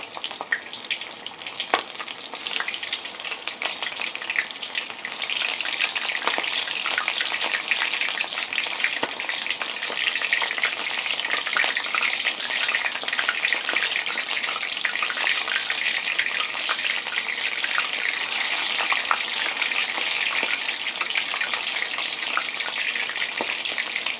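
Mustard-battered chicken pieces frying untouched in hot oil, a dense, steady sizzle with fine crackling pops running loudly and evenly throughout, no talking.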